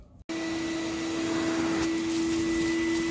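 An upholstery extractor cleans the fabric of a sofa, starting abruptly after a brief dip and running as a steady, loud suction whine with a constant tonal hum, close by, with no talking.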